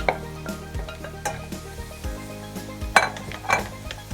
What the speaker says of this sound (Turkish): Şimdi mantarları ekliyorum.